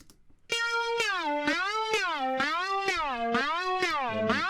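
A distorted synth tone glides up and down in a steady repeating wobble, bright and buzzy, playing alone without any voices.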